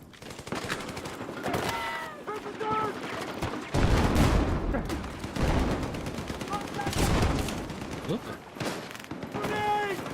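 Bursts of automatic gunfire from a Battlefield 6 firefight crackle through the scene, with heavier blasts and someone talking over the shooting.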